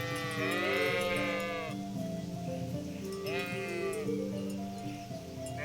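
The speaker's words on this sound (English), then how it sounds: "Sheep." Sheep bleat in the medieval video game Kingdom Come: Deliverance, two long wavering cries close by, the second following after a brief pause, over a steady game ambience.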